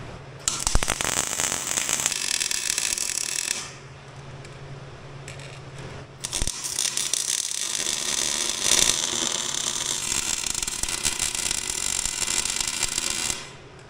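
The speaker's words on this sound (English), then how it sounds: "Got it all welded in there." Arc welding seals a plate onto a shaved junkyard axle, a loud steady crackling buzz in two long bursts with a short quieter gap between them, no voices.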